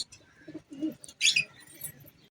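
Sherazi pigeons make soft, low cooing murmurs close by, broken up by a sharper higher chirp-like burst partway through, with faint rustling between calls.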